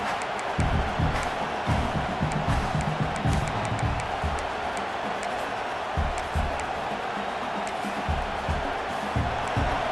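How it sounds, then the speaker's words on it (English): Stadium crowd roaring at an LSU versus Nebraska college football game, a broad sustained wash of cheering heard from a distance with thumping low rumbles and a commentator talking over it. "This crowd, full throat, spreading the eardrums and letting them know it's going to be a long day."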